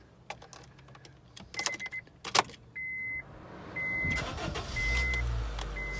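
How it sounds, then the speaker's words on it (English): A JDM Honda Fit is started up: keys jangle and clicks come first, then the engine cranks and catches into a steady idle with electronic chimes, close by. "Let's let you hear it start up."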